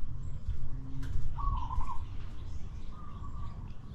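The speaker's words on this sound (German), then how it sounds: "jetzt diese Taube, ja, oder was das überhaupt das ist" A pigeon or dove perched on a neighbour's fence coos twice, soft and moderately near, over steady outdoor background noise with faint chirps.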